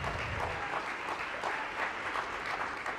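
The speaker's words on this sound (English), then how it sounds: "A huge round of applause for Robert." A crowd applauding after an introduction at an American disability-rights event, dense continuous clapping heard from the middle of the room and holding steady for the whole stretch.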